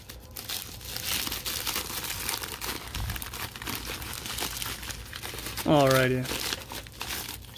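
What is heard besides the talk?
opening trading card packages with scissors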